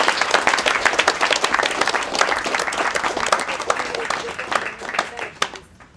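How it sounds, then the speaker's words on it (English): A workshop audience breaks into applause for the event organizers, with sustained, crisp clapping from a moderate crowd that thins and fades out near the end. "a round of applause"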